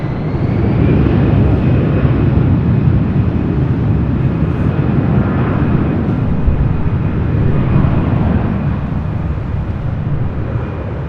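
An airliner taking off from runway 24 left at LAX, its jet engines a loud, continuous broadband roar that stays steady and close throughout, with no talk.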